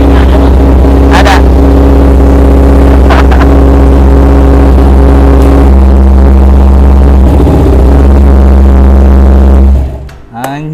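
A Kawasaki Ninja 250 motorcycle being restored after a crash idles and runs loudly with a leaking exhaust, giving a steady, close engine drone with slight revs before it cuts off near the end, and a voice speaks faintly over it.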